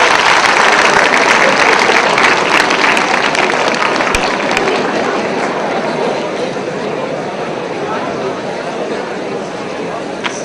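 Sustained audience applause fills a hall at a memorial lecture, dense and steady throughout and easing slightly in loudness toward the end.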